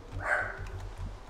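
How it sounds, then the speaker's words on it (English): Dog in the video game Minecraft giving a short, faint bark-like yip over a low background hum. "That's my dog."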